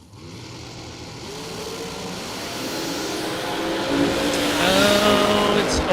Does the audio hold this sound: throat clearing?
no